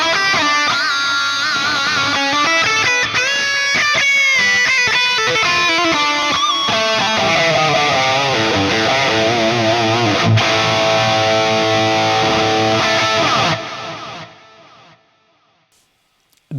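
An electric guitar runs through a Splawn Quick Rod amp model on a Fractal AM4 with dual delay and gold plate reverb, playing a loud distorted riff for about thirteen seconds before ringing out and fading to near silence.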